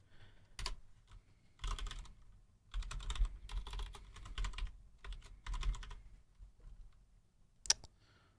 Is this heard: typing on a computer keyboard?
yes